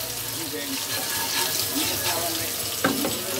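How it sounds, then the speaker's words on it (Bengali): Onion fries in hot oil until browned while shol fish is readied for cooking with spices and winter beans, a steady close sizzle with occasional stirring scrapes and a faint watery undertone. "আর এখানে পেঁয়াজটা আমি একটু বাদামি কালার করে ভেজে নিতেছি"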